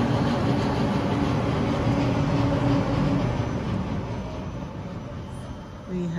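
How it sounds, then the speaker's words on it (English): A tram pulls into a stop in Oslo, a steady rumbling rail and motor noise with rolling wheel sounds that slowly eases as it slows, close by with a faint squeal near the end. "because the tram has just arrived."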